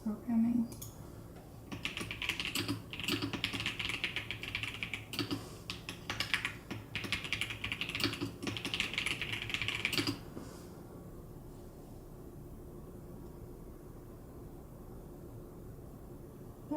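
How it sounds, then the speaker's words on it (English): Typing on a Keychron computer keyboard produces rapid, close clicking keystrokes in bursts for about ten seconds, then stops, leaving quiet room tone. "It's a Keychron keyboard and it's a Logitech 305 mouse."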